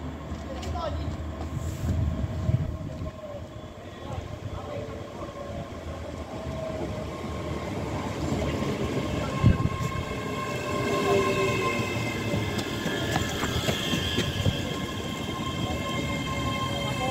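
A train rumbles steadily at a railway station in Falkirk with low mechanical drone, a faint horn-like tone and squealing wheels, while voices and announcements sound in the background.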